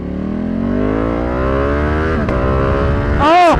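A tuned Ducati Panigale V2 motorcycle revs upward in a rising, steady engine whine on a street ride, then lets out a sharp burst of exhaust pops near the end.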